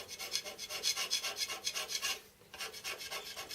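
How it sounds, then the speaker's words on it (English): A hand scraper works across mild steel, giving rhythmic, bright rasping strokes, close and steady, with a brief pause before the strokes resume. "the ease of hand scraping the mild steel"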